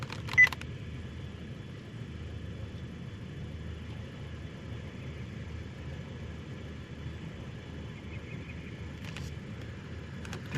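A Volkswagen Jetta idles at a low, steady hum after starting, with a brief click at the start and another near the end.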